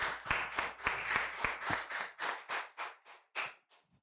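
Sparse applause from a small audience at a youth event, a dozen or so distinct claps in a loose rhythm that thin out and fade toward the end.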